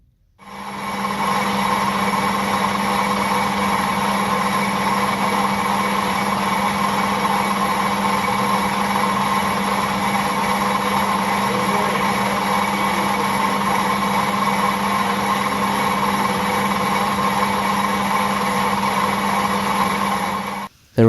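A boring bar cuts on a metal lathe during a 4 1/2 inch Burrell build, giving a steady, loud whine with strong sustained tones that runs unbroken for about twenty seconds.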